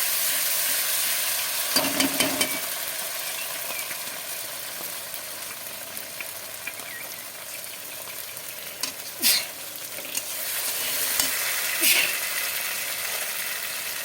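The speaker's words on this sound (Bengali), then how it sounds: "মশলাটা ভালো করে কষিয়ে নেব" Spice masala being fried and stirred in refined oil for a vegetarian lentil fritter curry, a soft continuous sizzle with a few louder spoon scrapes and clinks against the pan, no talking.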